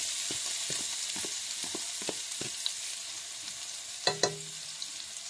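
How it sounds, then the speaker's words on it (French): Onions sizzle steadily in a frying pan for a chicken curry rice dish, with a constant bright hiss, soft repeated stirring scrapes and a couple of louder clatters near the end. "Alors, je prends les oignons. Je mets dans la poêle."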